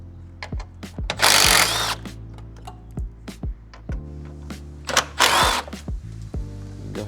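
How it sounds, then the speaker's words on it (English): A hand ratchet loosens the 8 mm bolts holding down the radiator on an Infiniti QX60, producing sharp scattered ticks and clicks with two longer rasping bursts of spinning. "we'll go ahead and start removing these 8 mils that are holding the radiator"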